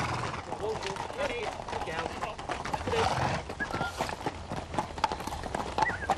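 Horses and hounds on village lawns at Christmas, with hooves clip-clopping in a busy, uneven rhythm and a horse whinnying now and then, mixed with chatter and moderate background bustle.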